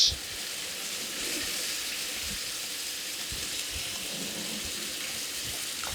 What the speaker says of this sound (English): And then you add some water.